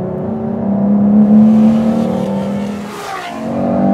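Ferrari F12tdf with its front-mounted V12 drives past under load, a loud continuous engine roar with a steady tone that swells and dips slightly over a few seconds, no talk.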